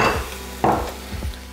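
Spices such as star anise and cinnamon sticks going into a saucepan of simmering pho broth, a few soft close thuds and stirring clatters over a low simmer, with no talk.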